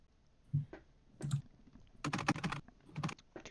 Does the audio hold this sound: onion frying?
no